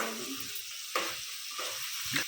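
Close sizzling of vegetables frying in a pan, with a few soft stirring scrapes breaking the steady hiss; no talking.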